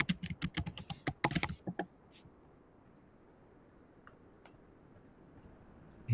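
Rapid, close clicks of typing on a computer keyboard come in a quick burst over about two seconds. Faint, quiet background noise follows, with a couple of isolated key taps later.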